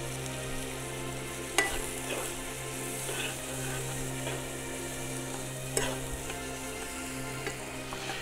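Potatoes simmering with cream in a pan beside rhombus fish give a steady low bubbling sizzle, with two sharp utensil clicks near the start and end.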